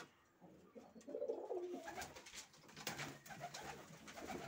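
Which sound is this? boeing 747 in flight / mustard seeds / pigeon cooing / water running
pigeon cooing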